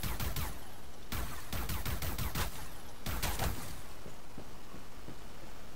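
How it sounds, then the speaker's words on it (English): A Nerve Reaper weapon fires in a video game, dense bursts of rapid automatic shots with short gaps, loud and continuous over the first few seconds before tapering off. "Next, the Nerve Reaper. Oh wow. This feels really good to shoot."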